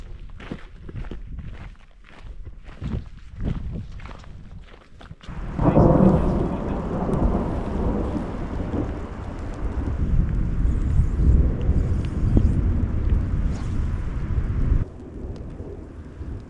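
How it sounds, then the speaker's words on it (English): Thunder rolls in during a storm at Crevice Lake in Yellowstone backcountry, after a series of close footsteps, a deep sustained rumble swelling loudly and lingering for several seconds over steady rain before fading. "It's a beautiful morning, set up camp, and then the thunder starts."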